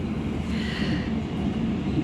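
Inside a moving economy-class carriage of the Matarmaja train between Madiun and Tulungagung in Indonesia, a steady, even low rumble of wheels and running noise carries on with no voices.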